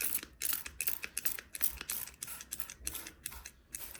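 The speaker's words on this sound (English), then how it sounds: "you are going to use this spray bottle" A spray bottle's trigger is pumped rapidly, spraying water onto crochet work for blocking, giving a quick series of short, sharp hissing spritzes at close range.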